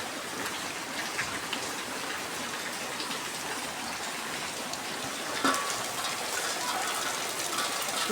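Heavy rain pours steadily outside, a dense continuous hiss of drops on surfaces with a few louder patters near the end, no voices.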